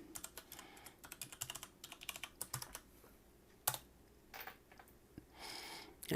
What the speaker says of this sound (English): I'll key in the password for it.